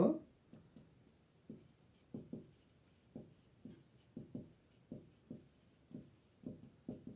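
Pen or pencil writing out the answer to a primary-school math problem, a faint series of short scratching strokes in an irregular rhythm, close and quiet with no talk.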